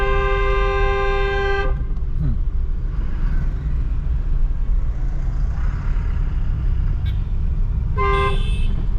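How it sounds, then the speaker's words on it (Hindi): Long car horn blasts from a beginner driving lesson in traffic, a steady tonal honk at the start and a shorter one near the end, close and loud over continuous road and engine rumble. "लॉन्ग हॉर्न पुश करो"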